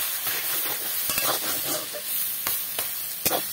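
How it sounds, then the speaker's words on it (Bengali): A spatula stirs and beats sour greens in a pan over low heat, giving a constant sizzling hiss with scattered sharp taps and scrapes of metal, heard close with no talk. "আস্তে আস্তে নেড়ে নেড়ে এইভাবে খুন্তি দিয়ে একটু বাড়ি দিয়ে দিয়ে শাকগুলোকে এইভাবে ঘেটে দিতে হবে"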